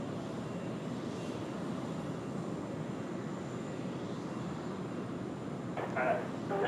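China Southern airliner on its inaugural Beijing service taking off from Sydney Airport, a steady broad engine roar from a distance that swells slightly near the end, with a commentator talking over it.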